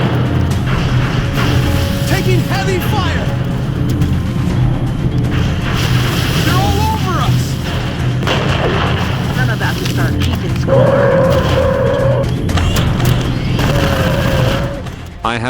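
A heavy firefight in an XCOM-style alien battle video game: booming explosions and bursts of weapons fire roll on continuously and loudly, layered with roaring effects and a voice speaking over the battle.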